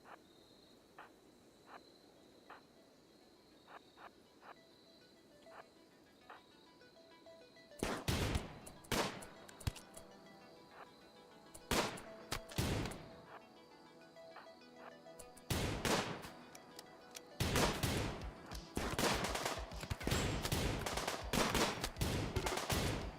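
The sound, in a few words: gunfire in the video game Rimworld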